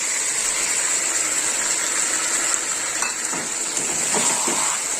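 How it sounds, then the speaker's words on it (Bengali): Tomato paste stirred in a hot pan for fish kalia, a steady sizzle with soft scraping strokes toward the end, moderately loud and without talk. "এবার টমেটো বাটাটা দিয়ে দেবো, একটু নেড়ে নিই।"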